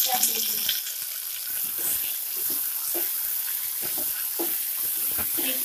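Fresh mint leaves and green chilies sizzling in a pan for mint chutney, with repeated scraping stirs of a spoon and a bright, continuous crackle throughout, fairly close and loud.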